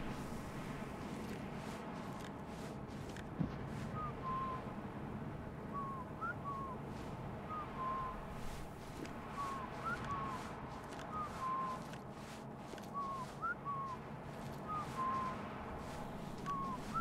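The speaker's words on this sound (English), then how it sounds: "let me just follow his whistling" A character whistles a repeating short melodic phrase in the video game Burden, faint and recurring every couple of seconds over a low ambient game background.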